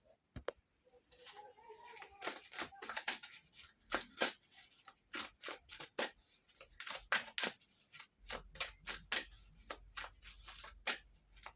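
Tarot cards are handled, shuffled and pulled, making a quick series of soft, close flicks and taps that grow denser toward the end over a faint low hum.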